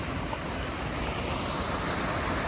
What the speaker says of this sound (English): We made it to another waterfall